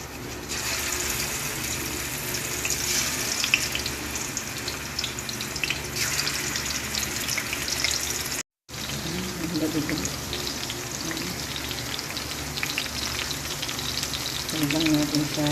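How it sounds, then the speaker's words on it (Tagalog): Boneless bangus (milkfish) frying in a pan with steady, dense sizzling and crackling throughout, close and fairly loud, broken by a brief silence midway, with a faint watery hiss under it. "Mag-start na tayo magprito ng ating bangus."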